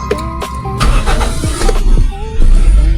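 A Toyota car fitted with an auxiliary air-conditioning condenser starts up: clicks and a short whirring crank give way to a loud, close engine rumble that swells near the end.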